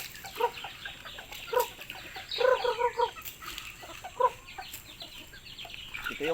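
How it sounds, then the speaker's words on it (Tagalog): Chickens clucking at feeding time in short bursts, several birds close by, with a cluster of louder clucks in the middle and scattered calls around it. "Ito na, feeding time na naman ulit natin mga alagang manok."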